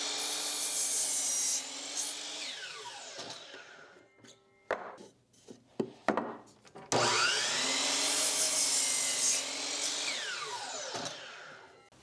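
A miter saw cuts 2x4 boards into 12-inch pieces: two loud, sustained whining cuts, each trailing into a winding-down spin, separated by a quieter stretch of clunks and wood knocks as the pieces are handled.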